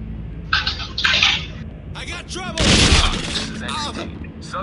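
Gunfire in the co-op shooter SWAT 4 inside an office building, a few short sharp bursts amid clattering action sounds, with people talking over it.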